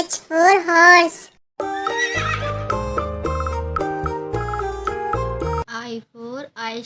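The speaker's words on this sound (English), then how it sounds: "H for horse." A horse whinnies in one short, wavering cry at the start, then bright children's music plays and a voice speaks near the end.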